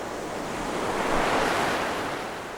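Ocean waves break and wash in steadily, a broad hissing surf that swells and fades, with some wind noise over the microphone.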